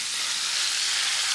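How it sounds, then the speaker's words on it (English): Steady, dense sizzling of pancetta frying in hot olive oil in a pan, close and continuous with no pauses. "we can just add this pancetta right to the pan. It's a nice sizzle."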